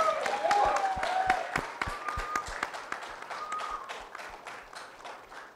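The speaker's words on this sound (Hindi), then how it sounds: "एक बार जोरदार तालियां हो जाए आप सभी की" Audience clapping at a film music launch event, brisk scattered hand claps over a room murmur, with a short tonal musical sound early on, fading toward the end.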